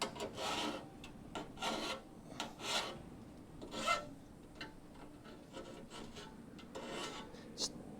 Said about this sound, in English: let me get the file and file down those burrs